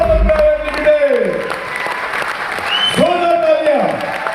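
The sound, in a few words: audience applause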